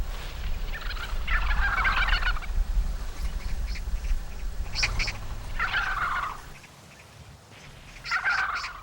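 A crowded flock of wild vultures squabbling over food handed out by people, giving four loud bursts of harsh, raspy squawking and hissing over a steady low rumble, with quieter gaps between the bouts.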